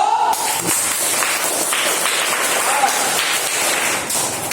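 A classroom of students claps loudly together, a dense, even wash of hand claps lasting several seconds and filling the room, with a few voices faintly mixed in.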